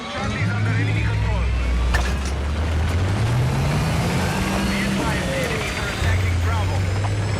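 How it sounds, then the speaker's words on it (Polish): A heavy tank engine in the video game Battlefield 6 rumbles loudly and continuously, its low drone rising and falling in pitch as it revs, with rattling mechanical noise on top. "Od razu słychać, jaką wielką moc ma ten silnik, jak on tam trzeszczy"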